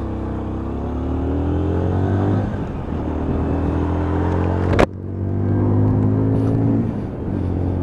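A Lexmoto ISCA 125cc motorcycle pulls out into traffic, its close engine droning steadily with rising revs, then a sharp click or knock midway before the engine note climbs again; no one speaks.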